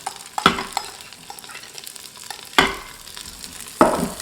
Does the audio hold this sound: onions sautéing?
yes